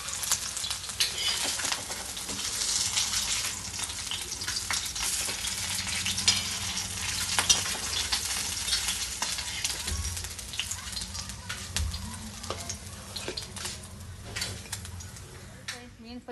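Fish fries on a tawa in a home kitchen, a dense continuous sizzle with crackling spatter and occasional utensil clinks, faint birdsong somewhere in the background.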